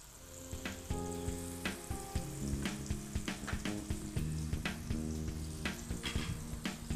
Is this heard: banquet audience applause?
no